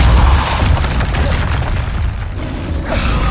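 Loud Confringo fire spell blasts in Hogwarts Legacy on PS4 Pro, booming continuously with rumbling low end and no pauses.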